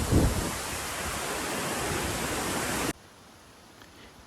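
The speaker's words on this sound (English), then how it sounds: "it's called the draft waterfall because of this tremendous draft that is created when the water comes down from the top of this spectacular waterfall" El Chiflon waterfall in Chiapas, with water pouring down from the top, makes a dense, loud, steady roar that cuts off abruptly near the end into quieter ambient hiss.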